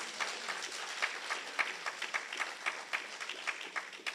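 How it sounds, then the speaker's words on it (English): Applause from a seminar audience at an economic empowerment event, a steady wash of many clapping hands with sharper individual claps popping through, moderately loud and sustained throughout. "Let's give another round of applause."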